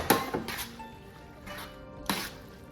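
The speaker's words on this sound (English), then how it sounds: "Put it all over your Pasticio, and then we're gonna mix it around." Parmesan being stirred through pastitsio meat sauce in a baking dish: a few soft utensil clinks and scrapes against the dish, with quiet squishy mixing between them, close and fairly faint.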